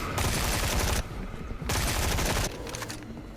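Rapid SMG fire in the game Cursed Lands of Lavern, two sustained loud bursts of dense automatic shots separated by short gaps, with a steady low rumble between them.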